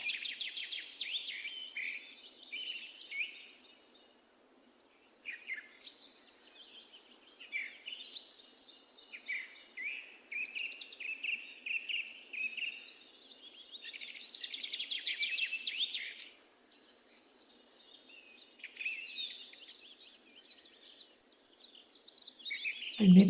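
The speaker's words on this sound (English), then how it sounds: "allowing the bird song to bring you here to this place now." Songbirds sing in repeated bright, warbling phrases separated by short pauses, a steady outdoor chorus at moderate distance over quiet background, with no talking; a gentle spring-morning ambience suited to a breathwork session.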